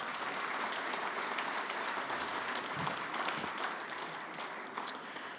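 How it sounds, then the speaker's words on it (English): Audience at a St. Louis sports hall of fame winter banquet giving a round of applause, steady dense clapping from a large crowd, moderately distant and sustained for several seconds without talk. "if you would please give them all a nice round of applause"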